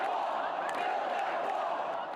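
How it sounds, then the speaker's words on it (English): A large political rally crowd chants and roars in a continuous, dense wall of voices that stays at a steady loudness throughout. "The crowd chanting."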